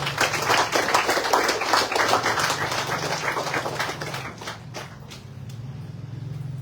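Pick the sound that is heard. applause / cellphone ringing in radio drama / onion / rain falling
applause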